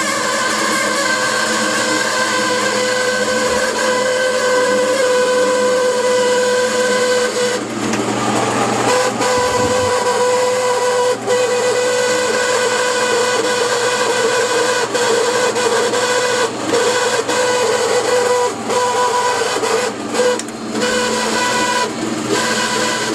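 A harsh, continuous mechanical screech from a Fisher and Paykel washing machine, even after a part was replaced, with shifting tonal whines and occasional clunks, loud and close, with nobody talking.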